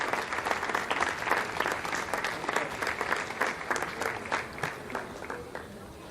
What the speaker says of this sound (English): Lots of applause here in the Jupiter Control Center.